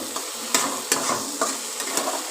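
Potatoes and spice paste frying in a pan for an egg-and-lote-fish curry: a steady close sizzle with a spatula scraping and stirring in regular strokes every half second or so, with no voices.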